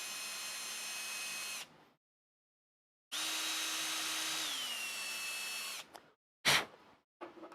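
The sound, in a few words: 4mm reamer cleaning out a hole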